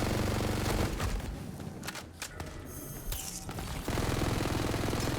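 Rapid automatic bursts from the Burr SMG in a first-person shooter game, firing in several quick strings with brief gaps, loud and close with no talk over them.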